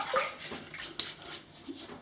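Water splashes and trickles quietly as it is added to a shaving brush and cream lather, soft wet sloshing with a small clack near the middle, close and faint.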